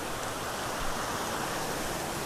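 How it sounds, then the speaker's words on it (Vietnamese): A mountain stream swollen with water after heavy rain rushes steadily and loudly, a dense unbroken roar of flowing water close by with no voices. "vừa rồi thì trời mưa rất là to nên là suối nào cũng nước rất là to nhé mọi người nhé"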